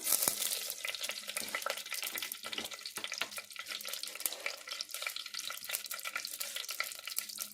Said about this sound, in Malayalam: എണ്ണ നല്ലപോലെ ചൂടായി നമുക്ക് കുറച്ച് കടുക് ഇട്ട് കൊടുക്കാം